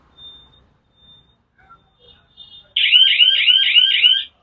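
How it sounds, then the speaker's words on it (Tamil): A few faint short beeps, then a loud rapid warbling electronic beep pattern lasting over a second, close by with no talk: a motorcycle's digital security key unlocking the bike. "ஸோ இதுதான் அன்லாக் பீப் சவுண்டு."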